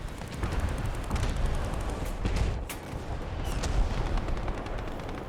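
Tank cannon fire and shell hits in a War Thunder armored battle, dense rumbling gunfire with repeated heavy booms and crackling impacts over a constant low roar.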